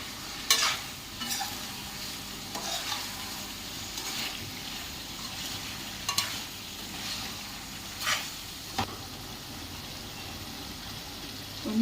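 Chicken liver fry with chili powder being stirred in a pan, close scraping strokes at regular intervals over a faint steady sizzle.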